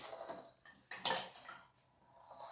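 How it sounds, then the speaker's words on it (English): Metal chocolate fudge cake baking pans clank and scrape as they are handled, with a sharp clatter midway and softer rattles around it, no talking. "I'm going to get my pan"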